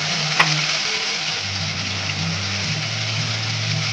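Onion paste and chopped onion frying in hot oil with bay leaves, a continuous close hiss and sizzle under a low steady hum, with a single sharp clink near the start.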